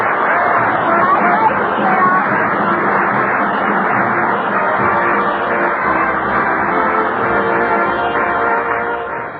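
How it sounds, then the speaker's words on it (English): A studio audience at a 1942 radio comedy show applauds in a dense, sustained roar of clapping and crowd noise that holds steady for several seconds, then eases slightly at the end. "Applaud loud. The baby's listening in."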